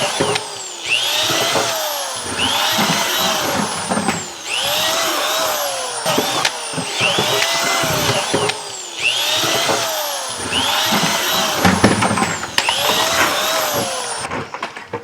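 A power drill bores holes into plastic buckets for container gardening, with repeated whining bursts of motor rising and falling in steady cycles, close and loud with brief pauses between holes.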